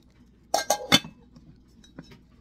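Lid from a new Tramontina cookware set clinking against a pan, three quick close metallic clinks followed by a couple of fainter taps, no talking.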